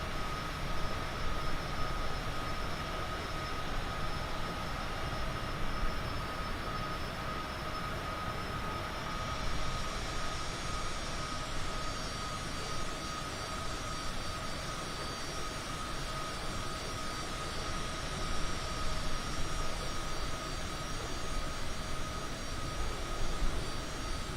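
A jet airliner's engines drone in Microsoft Flight Simulator on a flight from Paro to Hong Kong, a loud, steady broadband roar with faint tonal whine that continues unbroken and without talk.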